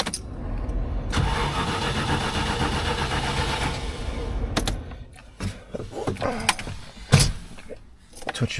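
A Land Rover Defender converted to a GEMS V8, first start after six months: the starter cranks and the engine catches into a loud rough running note for several seconds, then settles with clicks and knocks around it.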